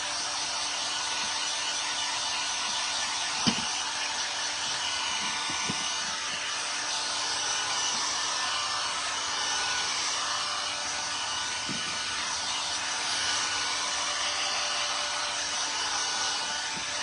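A hair dryer blows steadily on a faux apple pie vignette to dry paint, a close, continuous whooshing roar that holds level throughout with a few faint knocks and no talk.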